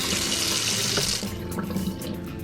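Plain tap water runs steadily from a faucet into a sink, a close, continuous hissing splash heard alone for a couple of seconds.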